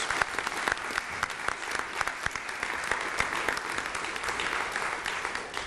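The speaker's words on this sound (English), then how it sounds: "Give them a round of applause, the volunteers." A crowd at the Milwaukee Irish Fest applauds the festival volunteers, with dense, continuous clapping at steady moderate loudness from a large audience, some individual claps standing out.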